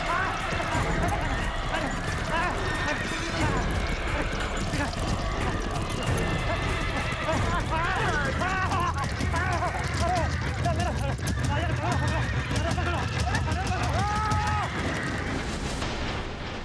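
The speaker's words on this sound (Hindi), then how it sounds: "सेट पर अचानक सभी घोड़े इस तरह से क्यों भड़क गए थे?" Panicked horses whinny repeatedly amid heavy hoof clatter and commotion on a television set, with agitated shouting voices throughout, the whole scene loud and chaotic.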